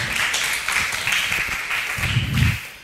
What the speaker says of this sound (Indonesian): tepuk tangan untuk Pak Nanang dulu ya